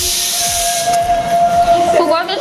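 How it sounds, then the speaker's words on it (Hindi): A shrill, steady pressure cooker whistle with hissing steam, cooking rice, sustained throughout, rising slightly in intensity toward the end. "कुकर तो सीखी आवाज ना बाबू"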